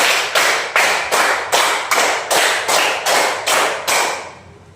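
A group claps five times twice over, ten crisp, loud claps in a steady even rhythm, each ringing briefly before the next, ending with a short fade.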